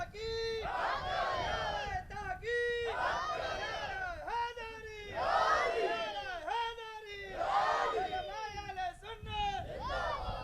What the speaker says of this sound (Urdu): اتنے پیارے نعرے سنائیں، دوبارہ سنائیں جی